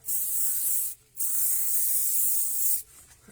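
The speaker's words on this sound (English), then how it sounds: "This is ordinary leaf shine, which you can get from the garden centre, florist, and just spray them" Leaf shine aerosol sprayed onto gladiolus leaves in two long hissing bursts with a short gap between them, close and steady, no talk.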